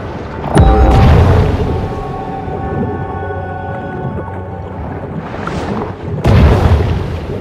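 Two deep booming explosion blasts in the video game Maneater, one at the start and one near the end, with a rumbling underwater-like drone in between.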